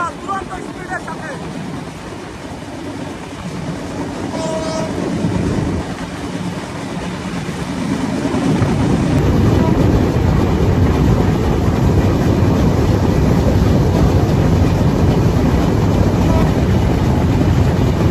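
The Ruposhi Bangla Express runs at high speed, its rumble building into a loud, dense roar with rushing wind across the microphone and a faint rhythmic rattle of the carriages.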